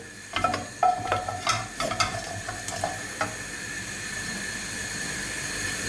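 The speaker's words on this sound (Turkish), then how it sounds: "Daha sonra suyunu süzdüğüm mantımı bu sıvı yağın üzerine ekliyorum" Drained boiled Çorum manti drop into a little hot oil in a pan, giving a run of sharp clattering, crackling bursts at first that settle into a soft, steady sizzle, close by with no voices.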